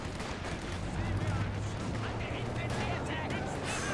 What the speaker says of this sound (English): MG42 actually stopped the LT rush on the right-hand side just barely